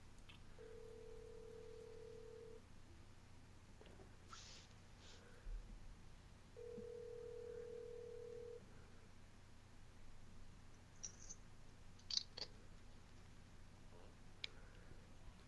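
A phone ringback tone sounds twice, long steady beeps separated by a pause, over a low hum, with faint clicks afterward.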